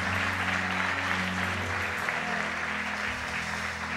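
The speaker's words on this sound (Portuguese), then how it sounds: "Aplauda ao Senhor." A church congregation applauds continuously through a worship service, a dense wash of clapping over a sustained low musical drone, with faint voices in the room.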